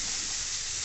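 Garlic fries in hot oil in a pan, giving a steady, close, bright sizzling hiss with no pauses.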